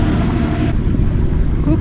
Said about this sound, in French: on a remis le moteur parce que pas assez de vent